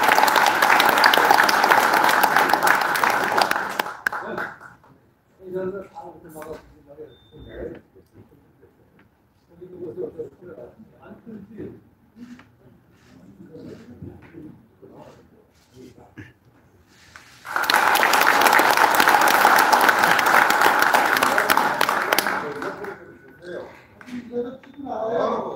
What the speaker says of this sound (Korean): 여러분 큰 박수로 축하해 주시면 대단히 고맙습니다